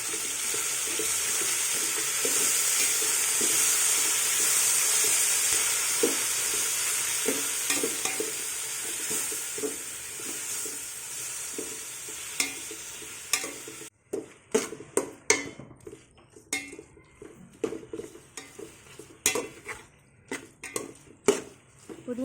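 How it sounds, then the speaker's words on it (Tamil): Tomatoes, mint and coriander sauté in a pan for vegetable biryani: steady frying hiss for the first half, then sharp intermittent scraping and stirring clatters of a spoon against the pan, close and moderately loud. "சேர்த்துட்டு இது எல்லாத்தையும் நல்லா வதக்கி விட்டுக்கோங்க"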